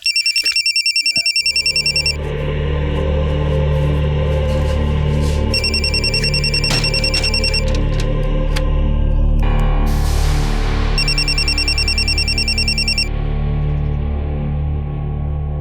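A telephone rings loudly in repeated bursts, with a low, steady background underneath and a brief swelling noise between rings.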